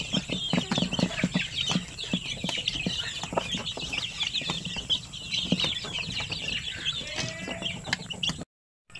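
Shamo chickens clucking in a busy farmyard, with several overlapping short clucks and calls over steady background noise, ending in a brief silence.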